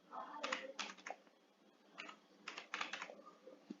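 Several bursts of quick keystrokes clatter on a computer keyboard while a roll number is entered, close and crisp, separated by short pauses.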